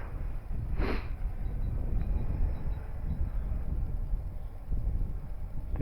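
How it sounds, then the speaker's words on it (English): Steady gusting wind roars over the microphone outdoors while an RC plane is flown, a broad continuous rumble with a brief whoosh near the start and no talking. "The wind is picking up a lot."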